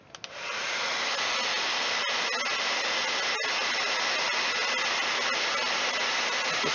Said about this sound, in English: And we're going to hit it again with the hairdryer.